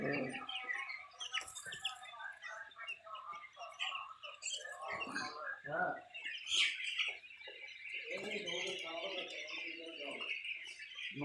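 Broiler chickens on a poultry farm produce a dense, continuous chorus of high chirps and clucks, moderately loud, with a person's voice talking briefly among the birds.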